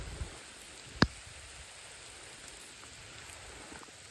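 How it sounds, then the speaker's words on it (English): Rain falling on the Lumber River during a fishing trip, a steady soft hiss of drops with one sharp knock near the start, no voices. "So it's raining pretty good right now."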